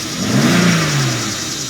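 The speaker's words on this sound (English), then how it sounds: "as it's running, you kind of can hear it stumble every now and again. It seems to rev up okay" A 2010 BMW 535xi engine, being checked for a check-engine light, runs close by and swells briefly in a short rev before settling back to a steady hum, heard alone without talking.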